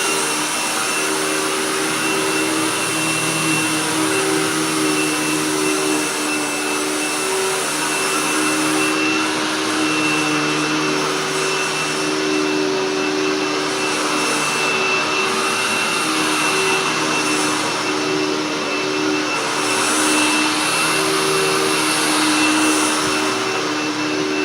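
A Hoover Tempo Widepath upright vacuum cleaner runs steadily and loudly with a constant motor whine and airflow roar, unbroken throughout with no talking.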